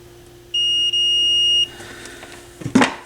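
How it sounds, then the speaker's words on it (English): A multimeter gives a single steady continuity-test beep for about a second with a tiny break, while testing a Pioneer SX 1000TA stereo receiver, followed by a clunk and some handling noise. "if I test it with my multimeter, I get a beep"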